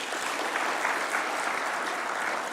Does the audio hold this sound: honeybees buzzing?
no